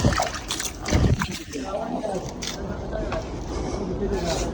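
Water splashing and sloshing as feet are washed outside a house before going indoors, with people talking over the running, splattering water.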